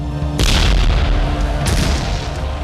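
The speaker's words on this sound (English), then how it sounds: "the Venetian general, Francisco Morosini, turned his cannon onto the Parthenon" Venetian cannon fire on the Parthenon: a loud, sudden deep boom followed by a rumbling tail, then a second blast a little over a second later.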